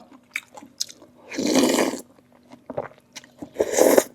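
Crunchy food bitten and chewed at close range alongside a Thai meal of khi lek curry, boiled fermented-fish chili dip and assorted boiled vegetables; two loud crunching bursts with quieter chews and small mouth sounds between them.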